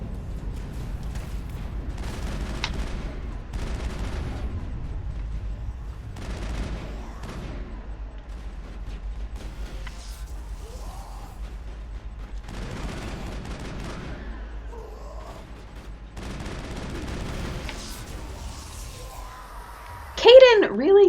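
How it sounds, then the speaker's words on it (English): Assault rifle fire in the video game Mass Effect comes as repeated short bursts of rapid shots, spaced through the stretch, mixed with in-game voices and a player talking over them. "I'm gonna go back to an assault rifle."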